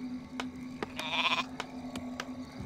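Sheep bleating in Warcraft 3, one clear nearby bleat amid sharp game clicks and pops, with a steady hum behind.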